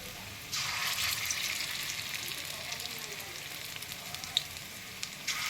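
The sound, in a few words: vegetarian banana flower kofta balls frying in oil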